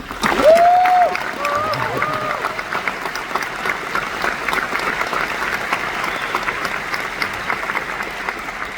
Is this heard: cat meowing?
no